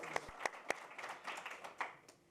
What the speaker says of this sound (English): we should thank each one of them with an applause